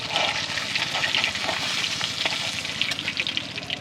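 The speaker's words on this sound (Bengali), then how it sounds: "এই কাঁটা চচ্চড়ি কাঁটাগুলো ভাজা হয়ে গেছে" Bhetki fish bones frying in hot oil in a pan for a bone chorchori, giving a steady, dense crackling sizzle throughout with no talking.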